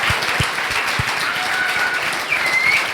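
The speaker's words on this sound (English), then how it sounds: "So I'd just like to give a massive round of applause" An audience at a coding bootcamp demo day gives a big round of applause for students, with steady, dense clapping throughout, a few louder close claps and some cheering whistles.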